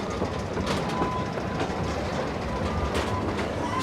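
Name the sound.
Pleasure Beach Express ride train at Blackpool Pleasure Beach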